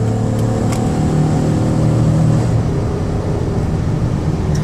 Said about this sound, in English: you can hear the engine run and the transmission shift